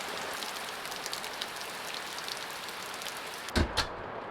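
Hailstones drum on a tarp yurt ceiling in a constant close patter, heard from inside, with a couple of brief louder thuds near the end.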